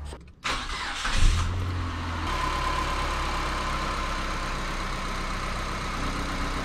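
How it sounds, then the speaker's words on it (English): An automatic-transmission car's engine cranks and catches close by, rising briefly, then settles into a steady low idle that carries on alone to the end. "we'll just start the car."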